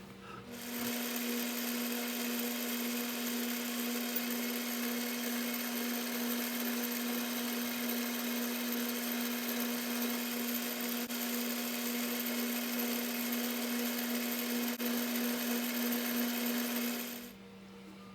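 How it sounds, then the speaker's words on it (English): A drill press runs steadily with a constant motor whine while center drilling an aluminum part, holding one even tone for about sixteen seconds before spinning down, with no talk. "First, we center drill."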